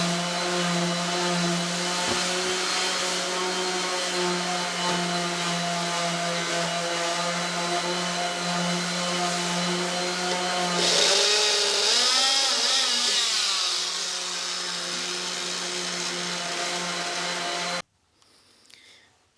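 A corded power drill whines steadily up close while building an epoxy river coffee table, its pitch shifting as it bites into material, then it cuts off abruptly near the end.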